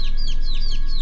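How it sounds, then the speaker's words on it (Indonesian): Chicks peep in rapid, high, repeated chirps, about four quick bursts close by over a steady background hum, with no voices. "suara ciap-ciap anak ayam dari sebelah kanannya"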